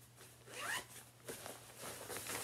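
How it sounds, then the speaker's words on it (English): A zipper on a pair of Nike men's track pants is pulled open in a few quick, rasping strokes, close and fairly quiet, with no talking over it. "zippers down here to open it up."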